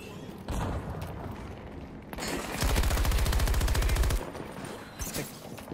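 Rapid automatic gunfire in Battlefield 2042, a long rattling burst of evenly spaced shots in the middle, with scattered single shots and mechanical clatter before and after, close and loud over a constant battle din.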